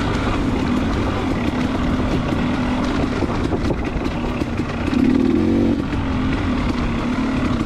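Engine of a Honda 400EX quad racing an off-road grand prix course, a loud, steady drone throughout that rises briefly mid-way as the throttle opens, with wind buffeting the microphone.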